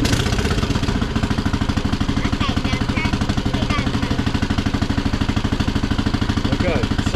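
A gas golf cart engine, a Duromax unit, runs with the choke on, chugging in a steady, rapid, rough idle throughout at close range, with faint voices in the background.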